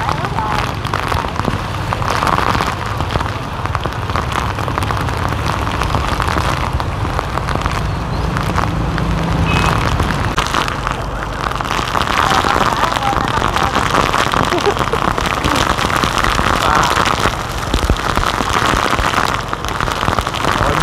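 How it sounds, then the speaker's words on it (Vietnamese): Heavy storm rain pouring onto a flooded Saigon street, a loud dense continuous wash of rain with traffic noise and a voice speaking now and then. "Mưa lớn thiệt luôn á."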